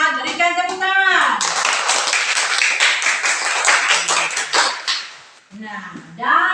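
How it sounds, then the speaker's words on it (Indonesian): A classroom of students claps for a group's presentation, a few seconds of dense, bright hand-clapping framed by a teacher speaking just before and after. "Berikan tepuk tangan."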